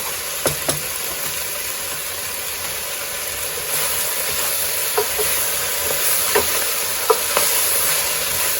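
Homemade tomato paste being stirred into a frying spinach and rice dish, a steady sizzle under scattered utensil scrapes and clicks against the pan.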